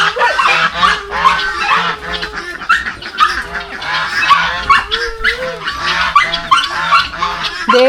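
Ducks quack loudly and continuously, many birds calling at once in a noisy, dense chorus close by.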